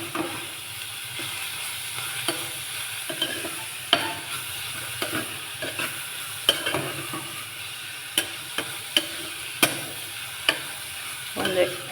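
Food stirred and frying in a pan for a Karnataka soppina sambar palya, a steady sizzle broken by scattered scraping clicks of the spoon, with no talk.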